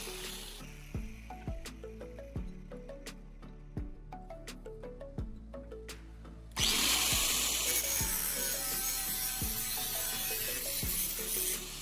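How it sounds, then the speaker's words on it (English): An angle grinder cuts metal pieces clamped in a vise, first in a series of short bursts that spin up and wind down, then in a sustained, louder grinding run, heard up close. "I secure it in a vise and use an angle grinder to cut the pieces."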